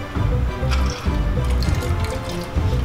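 Water pours and splashes through a pool-party-themed chain reaction machine, with irregular gurgling, dribbling and splashing bursts close by and no talking.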